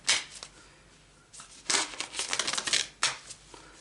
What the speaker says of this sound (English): these cards are annoying. They won't shuffle in a nice way